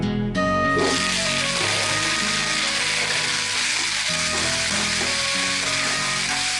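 Chopped tomatoes sautéing in a pan for a Tamil kuzhambu, a loud steady sizzle and crackle running throughout at close range.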